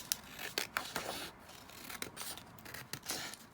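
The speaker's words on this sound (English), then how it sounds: "Doing some very rubbish tearing" Paper is torn in short, uneven rips of a few quick strokes each, close and fairly quiet, with rustling between the tears.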